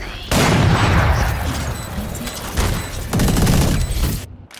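A grenade blast and bursts of gunfire in the Valorant shooter game, with loud broadband booms and crackling fire in two heavy waves and a brief drop to silence near the end.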